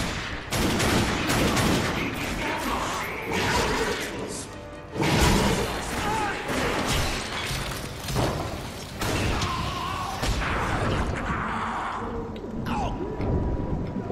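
In the video game The Darkness 2, gunfire rings out in dense, loud volleys with crashes and thuds, heard alongside a man's speech.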